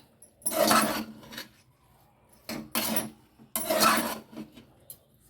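Idiyappam sevai gets mixed by hand in a vessel, making three distinct bursts of close rubbing and scraping with short quiet gaps between them.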